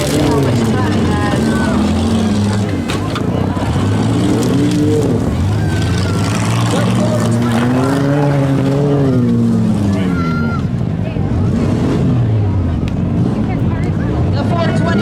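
Cars in a windshield mini smash demolition derby at Teeswater in 2025: engines drone and rev up and down continuously, loud and rough, beneath an announcer's steady commentary.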